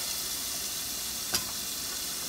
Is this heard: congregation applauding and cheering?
no